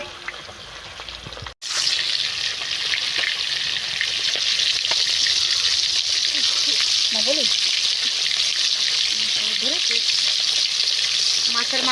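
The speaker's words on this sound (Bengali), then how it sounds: "তেলটা আমার গরম হয়ে গিয়েছে, মাছের মাথা দিয়ে দেবো এখন।" A fish head frying in hot oil, with a loud, steady, close sizzle that bursts in after a brief quiet moment and crackles continuously, with a voice faintly under it.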